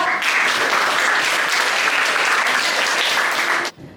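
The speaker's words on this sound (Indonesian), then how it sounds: "kita beri aplaus untuk Nisa." A classroom audience claps steadily for about three and a half seconds, a dense, close burst of applause that stops abruptly.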